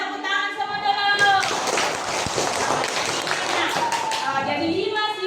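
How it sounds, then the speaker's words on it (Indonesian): Across a classroom, a group of students claps in a dense burst lasting about three seconds, framed by a teacher speaking before and after. "Coba tepuk tangan semua dulu"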